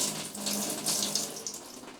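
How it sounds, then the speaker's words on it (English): Liquid from a Redroad W13 wet dry vacuum's tank pours steadily down a sink drain, a close, continuous splashing rush of water that runs throughout without a break. "And then you can just empty the liquid down your drain."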